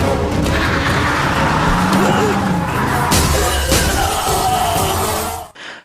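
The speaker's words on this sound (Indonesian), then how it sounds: "Shekhar Prasad menyetir mobilnya dan menabrak tubuh Krishna hingga terpental jauh" Car driving and crashing in an Indian action film, a loud engine roar with tire noise and a crunching, shattering impact, heard under a speaking voice before cutting off abruptly.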